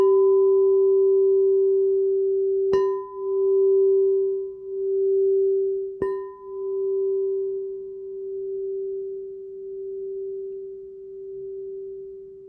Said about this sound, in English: consider a sound from a big, beautiful crystal bowl